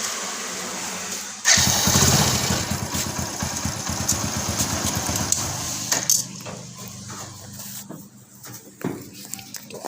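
Hero HF Deluxe motorcycle engine starting up and then idling close by with a steady, buzzing putter that thins out toward the end, with background voices audible.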